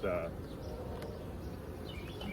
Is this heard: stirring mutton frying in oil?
no